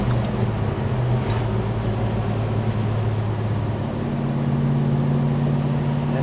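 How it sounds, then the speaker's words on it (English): A 1973 Plymouth Duster 340 with a four-speed manual cruises on radial tires, its engine a steady, loud drone with a low hum that shifts pitch partway through, like a gear change, with no talk over it. "So you can roll through the gears, take a turn on these nice radial tires."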